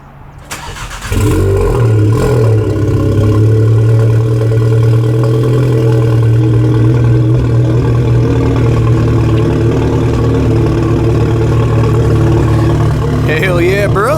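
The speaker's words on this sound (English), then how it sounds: "A little cold start." A VW Mk7 Golf with a catless downpipe and Magnaflow catback exhaust cold-starts: a short crank, then the engine catches with a loud rising flare and settles into a steady, deep, droning idle close by.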